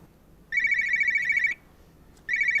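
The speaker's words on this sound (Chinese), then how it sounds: "对不起，我接个电话。" A mobile phone rings with an electronic tone in a crime-drama scene: two steady bursts, the first about a second long, then a pause and a second burst starting, fairly loud and close, with no talk over it.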